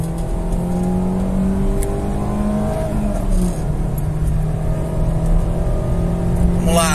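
A Fiat Palio Sporting 1.6 accelerating hard from inside the cabin, the engine note climbing and dropping as it shifts through the gears, loud and continuous.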